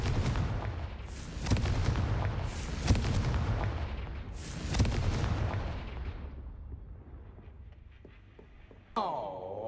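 Booming blasts from a Confringo fire spell cast in Hogwarts Legacy, several heavy explosive bursts in quick succession with rumbling decay, fading toward quiet before a shimmering magical sound at the end.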